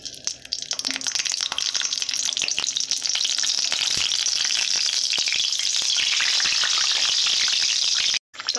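Tomato hits hot white oil in a pan and sets off a loud, dense, crackling sizzle that holds steady, with a brief break near the end.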